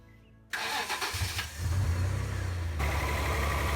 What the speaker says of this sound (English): And now this Acura Legend ran great.